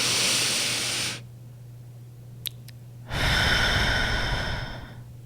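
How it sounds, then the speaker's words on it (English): A slow, deep breath in and out: a long, airy exhale fades into near silence, then a strong breath starts up again and carries to the end, close and clear. "go ahead and take a deep breath with me"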